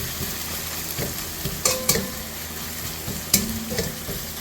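A mixture is stirred in a sizzling pan while frying, with scraping strokes and small clinks over a steady hiss, close and without talk.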